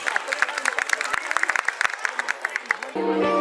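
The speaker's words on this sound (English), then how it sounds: "Please give a big round of applause for these small kids." A crowd at a school annual function applauds young children's performance with brisk, steady clapping for a few seconds, then a sustained tone takes over.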